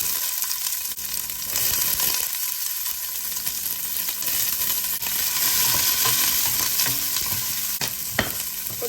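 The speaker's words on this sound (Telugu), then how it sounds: "కొంచెం వేగనివ్వాలి ఉల్లిపాయ." Onion sizzling and frying in oil in a pan while a curry is being made, a steady bright hiss with occasional stirring scrapes, close and continuous with no talk.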